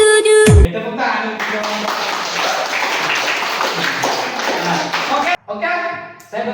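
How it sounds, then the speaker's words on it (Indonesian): A class claps hands together in a steady, moderately loud burst of applause lasting several seconds, framed by brief bits of classroom sound at the start and end. "Tepuk tangan."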